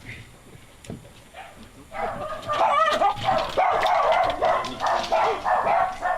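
People in the audience at a live comedy show imitate barking dogs, with several overlapping voiced barks and yips rising out of crowd noise and continuing loudly for several seconds.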